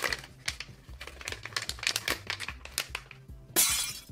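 Resealable plastic bag holding fidget toys being handled: close crinkly rustling in quick irregular bursts, ending with a louder brighter crackle.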